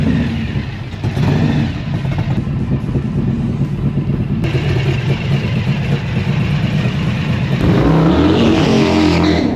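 A Feuling W3 150 cubic-inch three-cylinder motorcycle engine revs loud and close indoors in a showroom, a lumpy uneven roar that rises to a harsher surge near the end.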